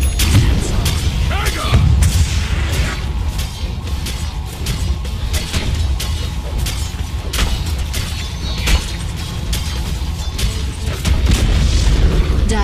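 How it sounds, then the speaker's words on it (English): Dota 2 towers under attack, with repeated booming explosions and attack impacts layered over a dense, constant game soundscape, loud throughout. "Dire's bottom tower is under attack."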